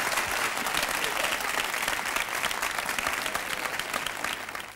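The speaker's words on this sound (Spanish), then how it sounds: "el aplauso ahora muy fuerte para ti" Dense, sustained studio audience applause at a 1980 Spanish television game show, loud and steady throughout before tapering slightly at the end.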